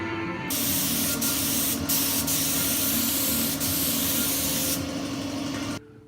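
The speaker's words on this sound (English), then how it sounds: "We're gonna put some sealer on here and see what happens." A spray gun lays sealer onto a car trunk lid, a steady loud hiss running nearly six seconds with a few brief breaks before cutting off.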